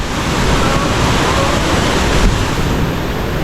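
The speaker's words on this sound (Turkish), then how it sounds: "Şelalenin aktığı yere geldim." Rushing water at the Lion Waterfall (Cascada El León) in a rainforest near Villa Rica, a steady, loud, broadband roar that holds without a break from start to end, close at hand, with no talking heard.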